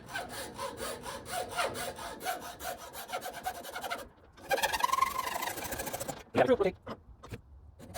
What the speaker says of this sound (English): And I'm gonna saw off the top of the cap.